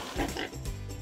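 A pig oinks on a children's alphabet phonics flashcard for the letter P, giving a couple of short, close grunting snorts.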